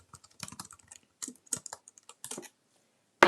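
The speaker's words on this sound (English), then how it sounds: "I can type my answers here or a message like" Typing a chat message on a keyboard in a Zoom class chat: several irregular clusters of close, crisp keystroke clicks with short pauses between them, ending in a sharp loud tap.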